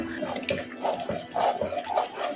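Hot water being poured into a pan of cauliflower curry while the spices fry, a steady splashing liquid pour with rhythmic surges close by, no talking.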